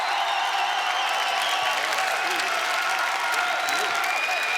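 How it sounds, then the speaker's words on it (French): Steady, dense applause from a French TV studio audience welcoming actor Roy Thinnes onto a variety show, sustained and loud without pause for the whole stretch. "applaudissements s'il vous plaît"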